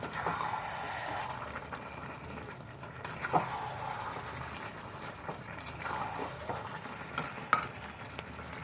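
Spiced mutton kosha stirred and fried in a pan, with a steady low sizzle and occasional scraping clinks of the spoon against the pan, close and continuous.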